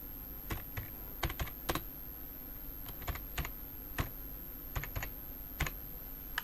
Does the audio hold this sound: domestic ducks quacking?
no